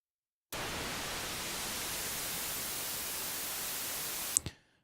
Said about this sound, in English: We'll send that to noise color.